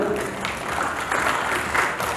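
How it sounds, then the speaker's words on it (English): Audience applause at an awards ceremony, a steady wash of clapping from a large crowd that holds evenly from start to finish with no talk over it. "Could we have a huge round of applause for Hemant as well?"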